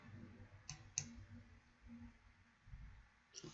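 Computer mouse clicks at a desk: two quick, faint clicks close together early on and another near the end, over a low background hum.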